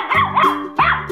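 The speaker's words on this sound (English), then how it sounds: "Dog." A dog barks in a 3D animal slide video game, two loud close barks with a whimpering tone and a short gap between them, with no speech.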